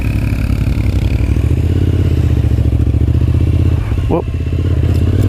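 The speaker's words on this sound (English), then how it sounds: "Riding a motorcycle does not come super easy." A motorcycle being ridden, its engine a steady loud rumble throughout with a brief clatter near the end and a short exclamation from the rider.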